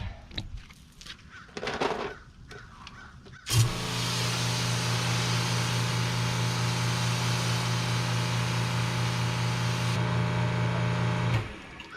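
An AR Blue Clean electric pressure washer switches on abruptly and drones steadily for about eight seconds while rinsing a truck, loud and close, after a few faint scattered sounds.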